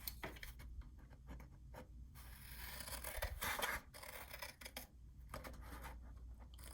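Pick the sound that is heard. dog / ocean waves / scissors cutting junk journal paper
scissors cutting junk journal paper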